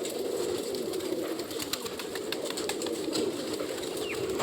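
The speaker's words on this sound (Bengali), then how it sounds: "দেখুন বন্ধুরা কত পায়রা" Domestic pigeons coo in a low, continuous murmur, with occasional wing flaps and rustling from the flock close by and no talk.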